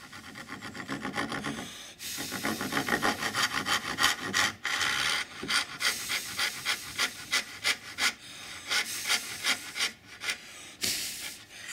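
Hand saw starting a cut in pine wood: rapid rasping back-and-forth strokes, short and light at first, then steadier rhythmic sawing, close up with brief pauses and no talking.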